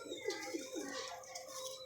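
A pigeon coos softly among a flock kept by a pigeon fancier, with a few low rolling coos over a faint, busy background of other birds.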